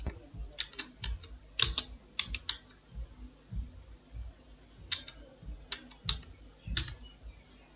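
Keys clatter on a computer keyboard in short bursts of quick clicks separated by pauses, close and fairly quiet with no voices.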